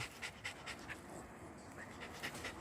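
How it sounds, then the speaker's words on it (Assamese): A pet dog pants close by in quick, rhythmic bursts of breathy huffs, fairly quiet and uninterrupted, with no one talking. "কুকুৰকেইটাৰ ভিতৰত এটা আছে মোৰ লেব্ৰাডৰটোৰ নাম হ'ল শিবু"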